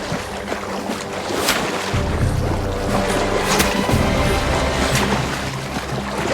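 Swimming through water in Kingdom Come Deliverance 2, a continuous splashing and churning of water with rushing wash and occasional sharper splashes, fairly loud and close.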